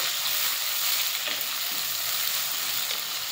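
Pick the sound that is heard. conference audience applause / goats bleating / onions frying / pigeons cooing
onions frying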